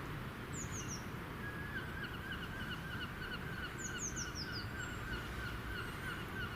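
Birds call outdoors in a repeated series of short chirps and honk-like notes over a steady rumble of traffic, with the calls moderately distant and the background noise continuous throughout.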